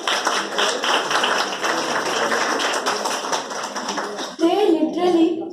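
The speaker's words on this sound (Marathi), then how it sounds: "एकदा त्यांच्यासाठी एकदा जोरदार टाळ्या होते." Loud clapping and applause from a school prize-giving audience at a state-level science video competition, dense and sustained for several seconds, then a brief voice rises over the tail of the applause.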